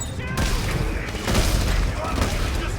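Pistol gunfire in the video game Dead Space 3: a few loud, booming shots with thumping impacts amid constant game noise, no voices present.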